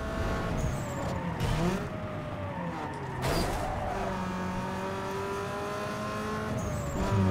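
Race car engine in the video game Need for Speed Underground 2 during a time trial through an airport, a loud continuous revving drone with rising and falling pitch across gear shifts and occasional tire squeal.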